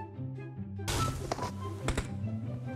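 Punch landing on a character in a samurai-mode video game: a sudden thumping hit over a quiet hum, followed by a few sharper smacks in quick succession.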